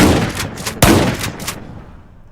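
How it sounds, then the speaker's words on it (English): Shotgun blast from the M870 Classic in a Minecraft gun mod, a single loud booming shot that rings out and decays, preceded by brief softer mechanical clatter, close and with no talk. "M870 classic. It's your average American shotgun, really."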